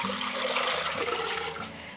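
Water gushes steadily from a running tap for cooking rice, a close, continuous rushing splash with a low resonant hum beneath it.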